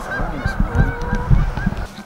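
A flock of geese honks repeatedly and loudly nearby, a rapid overlapping series of nasal calls outdoors at the Lake Shawnee abandoned amusement park.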